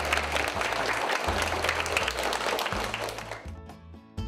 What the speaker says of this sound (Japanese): その辺は拍手していただきたいと思います